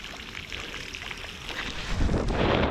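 Bicycle tyres rolling through water runoff on a hilly Pennine road, a continuous wet hiss and splash mixed with wind rush that swells louder toward the end.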